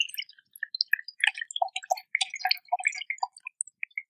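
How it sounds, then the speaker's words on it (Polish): Coconut water dripping from a coconut pierced with a corkscrew, a quick run of small, irregular tick-like drips, close and fairly faint, with nothing else heard. "No i teraz cierpliwie musimy spuścić wodę."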